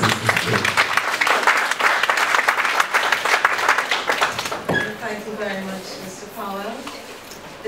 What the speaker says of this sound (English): A round of applause for her as she commences this day.